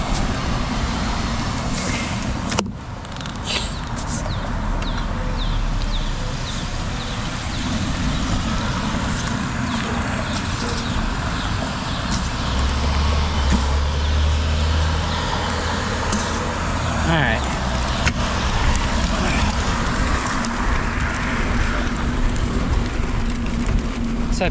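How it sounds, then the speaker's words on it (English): Road traffic rolls past a bike commuter as a constant roar, with a heavier, deeper vehicle rumbling by near the middle. "So I purposely let like all the traffic go"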